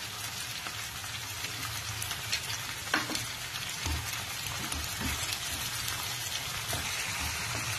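Onion paste spits and sizzles in a hot pan for chicken gravy, with a steady crackling fry and a few sharper pops and stirring scrapes, moderately quiet and with no voices.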